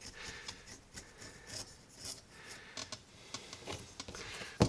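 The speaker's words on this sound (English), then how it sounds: "I like to take my razor blade and just run it along the edge gently to take off any excess material" A razor blade scrapes gently along the edge of a leather belt, making a soft, quiet rasping rub in short repeated strokes, heard alone.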